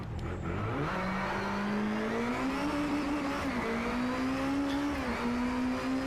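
Race car engine in the video game Driveclub VR: a steady, loud, continuous engine drone that climbs in pitch as the car accelerates, dips briefly, then rises again, with no talking.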